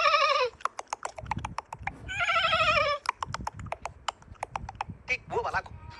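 A man vocally imitates a horse, giving repeated neighing whinnies with tight, regular clicks like clip-clop hoofbeats between them. The bursts are loud and close, with a low hum running underneath.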